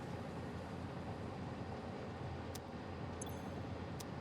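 A train in the factory-building game Satisfactory pulls out of a station with a steady, broad rumbling roar, joined by a couple of faint metallic clicks near the end.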